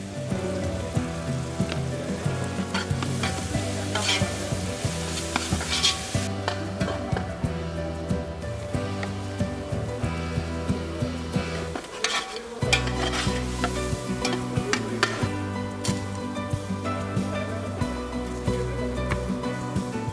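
A paste of ground onion and garlic fries in hot oil for a fish curry, giving a constant close sizzle broken by repeated scraping stirs, with no voices.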